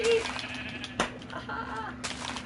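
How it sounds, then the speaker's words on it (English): Sheep bleating in Minecraft survival, a short game bleat near the start amid other game sounds, with a person talking over it. "Sheep! Sheep!"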